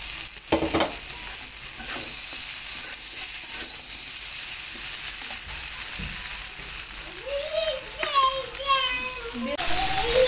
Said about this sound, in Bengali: আলুগুলো সিদ্ধ হয়ে গেছে এখন দিয়ে দিচ্ছি ভেজে রাখা রুই মাছের মাথাগুলো